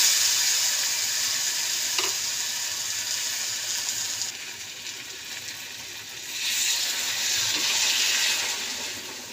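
Water poured into a sizzling pan of fried spice paste with softened eggplant and green chilies, a steady loud hiss and bubbling that surges and eases over several seconds, no voices.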